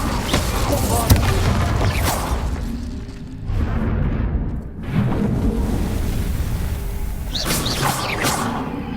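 Explosive Bombarda spell blasts in Hogwarts Legacy, booming bursts with whooshing tails that rise and fade repeatedly over a rumbling magical battle.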